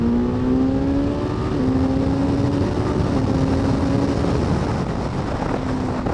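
A 2022 Suzuki GSX-S1000GT litre-class motorcycle engine drones steadily on the road, its pitch stepping down and rising again through a quick-shifter downshift, loud and continuous under wind rush with no talking.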